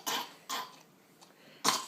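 A person indoors at lunch coughs three times in quick, separated bursts, close and moderately loud, with a short pause between the second and third.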